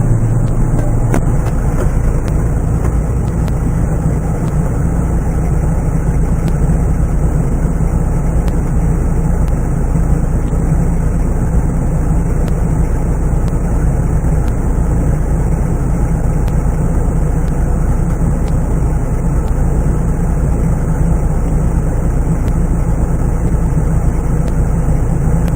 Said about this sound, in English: I'll be able to go faster and faster with the tractor